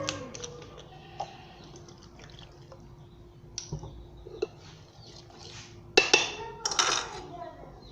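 Chicken broast batter mixed by hand in a bowl, soft wet stirring with scattered small clinks, close and quiet, ending in a few louder scrapes and knocks against the bowl.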